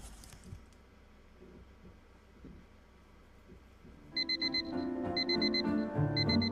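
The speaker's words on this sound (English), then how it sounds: "I woke up to my alarm beeping" An alarm clock in a visual novel game beeps in loud, evenly spaced bursts of repeated electronic tones, starting partway through and continuing to the end over a steady background.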